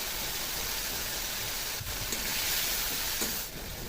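Spice paste of chilli powder, Kashmiri chilli, turmeric and salt sizzles steadily in hot oil for a Bengali pomfret fish curry, a loud continuous frying hiss with a few soft stirring scrapes.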